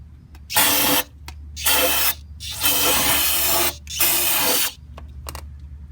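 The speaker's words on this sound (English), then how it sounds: "with some compressed air from the brake cleaner" Brake cleaner sprayed onto a Mini Cooper brake piston and cylinder comes in four loud hissing bursts of about a second each, separated by short pauses, very close, with no voices.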